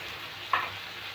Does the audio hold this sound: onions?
yes